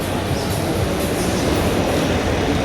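A train at Roma Termini station in Rome, a constant loud low rumble and rolling rail noise filling the whole stretch, with faint wheel clatter and no voices.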